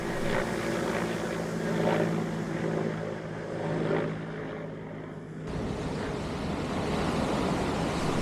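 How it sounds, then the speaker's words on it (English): Mi-17 military helicopters fly over a beach in a simulated strafing run, giving a continuous loud rotor and engine drone with rhythmic thrumming pulses that shifts abruptly midway. "The Mi-17s then simulate a beach strafing operation to soften up targets."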